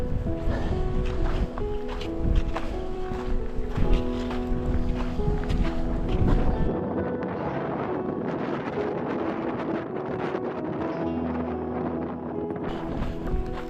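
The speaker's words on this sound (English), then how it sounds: "It's a strong wind though." Strong wind buffets the microphone on a mountain trail near Mount Rainier, a steady loud rushing roar with gusty rumbles and rustling that carries on throughout, without clear talking.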